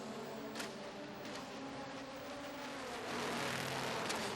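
A Super GT race car, Toyota entry of the Tom's team at Sepang, drives into the pit lane for a tyre stop, its engine a steady loud drone that swells near the end over broadband track noise.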